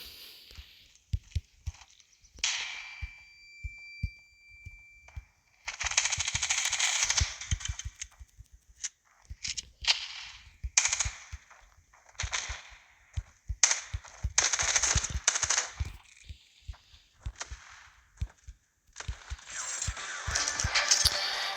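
Bursts of gunfire from a cheap gun in a shooter video game, sharp shots in quick clusters and rapid strings with short pauses between volleys, fairly quiet overall and without talk.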